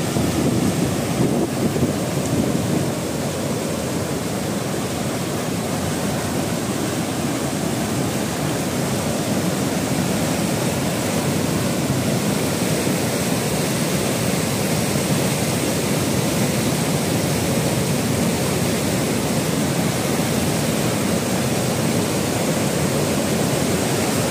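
A fast, swollen stream of rising water rushes past in a steady, loud broadband roar, continuous and close with no break and no voices.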